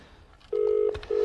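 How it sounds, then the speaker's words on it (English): A telephone ringing tone sounds on a call, a steady electronic tone in two bursts separated by a short gap, fairly clear against a quiet background. "we have a ringing tone"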